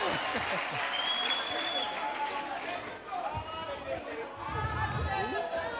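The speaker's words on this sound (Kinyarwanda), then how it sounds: "amashyi cyane kuri Mike Kayihura ladies and gentlemen" Audience applause at an entertainment show comes as sustained, moderately loud clapping mixed with cheers and crowd chatter throughout, with a voice speaking over it.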